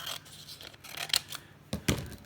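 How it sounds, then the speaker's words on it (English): Scissors trimming a sheet of paper down to size, a few close, crisp snipping cuts with short pauses between them and two sharper closing snips near the end, no voices. "So I'm just going to trim that down."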